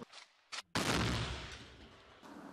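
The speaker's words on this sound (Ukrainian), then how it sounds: "чуємо потужний вибух із боку сусідньої Мар'їнки" A powerful explosion from mortar fire near Marinka in eastern Ukraine booms after a short sharp crack, its rumble lingering and slowly fading in the open air.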